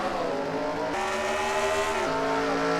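ARCA stock cars roar hard and close on a green-flag restart at Iowa. The dense engine drone climbs in pitch through stepped gear changes and plays alone without a break.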